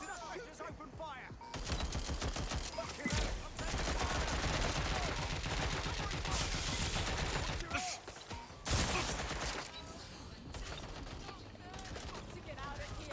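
Sustained automatic gunfire in the open-world game Watch Dogs Legion, rapid bursts of rattling shots that fill most of the stretch, broken by short pauses and a few louder single cracks, with a voice heard over it at times.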